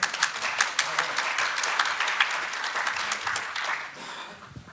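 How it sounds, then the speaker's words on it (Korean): An audience at a police academy training lecture applauds after a live arrest demonstration: many hands clapping in a dense, steady burst that tapers off toward the end. "예, 박수 한번 부탁드리겠습니다."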